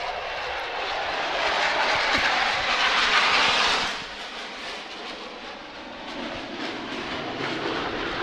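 A jet-powered truck roars at full thrust on the runway at the NAS Oceana air show, a loud, dense, sustained blast of engine noise that swells and then eases off slightly.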